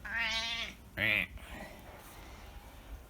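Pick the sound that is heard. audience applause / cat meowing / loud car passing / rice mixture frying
cat meowing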